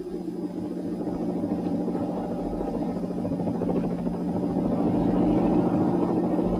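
A helicopter flying over power cables during a harsh winter freeze produces a steady, droning engine and rotor hum that holds constant and grows slightly louder toward the end.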